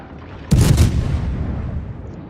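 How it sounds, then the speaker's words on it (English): A single booming salvo from battleship guns shelling a German battleship in World of Warships, a sharp loud blast followed by a rolling rumble that slowly decays. "I keep shelling this German battleship, trying to set more fires on them."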